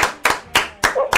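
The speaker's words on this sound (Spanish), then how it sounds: "¡Fuertes aplausos!" Applause on a television show set, four or five loud, close claps in quick rhythm, sounding like a small group clapping rather than a large crowd.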